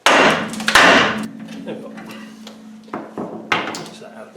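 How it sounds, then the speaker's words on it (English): A big hammer pounds a ball joint separator tool on a rusty car axle suspension, giving several heavy, sharp blows at uneven intervals. Someone speaks briefly between the strikes. "disconnect the ball joint with our disconnecting ball joint tool. Big hammer."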